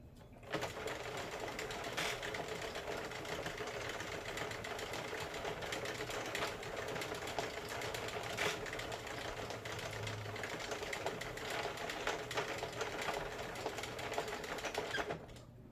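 A Sentro knitting machine is cranked to knit a neck warmer, making a continuous, even mechanical clatter of rapid ticking that is close and steady from start to finish.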